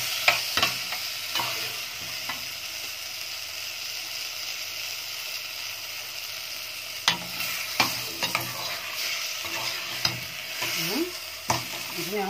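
Quail stuffed with freekeh fry in ghee in a pan while being stirred, giving a constant close sizzle with scattered scraping and clattering strokes of the spoon and no voices.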